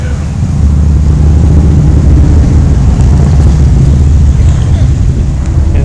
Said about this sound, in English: Honda Silverwing tricycle.